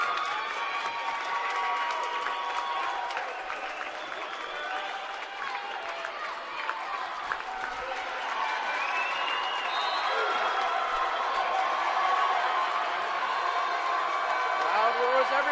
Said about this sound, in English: Loud roars everywhere. You can barely hear anything.